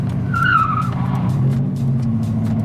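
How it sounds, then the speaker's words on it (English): A car doing a burnout, a short high tire squeal rising over a steady engine rumble, heard from nearby inside another vehicle. "Why are you doing burnouts"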